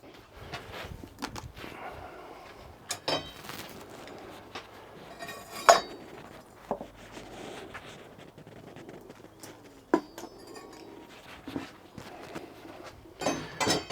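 Bronze risers and sprues being dropped into a Vevor 12 kg foundry melting furnace, giving sporadic close metallic clinks and clunks over a quiet background, with no voices.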